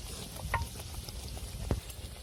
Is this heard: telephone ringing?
no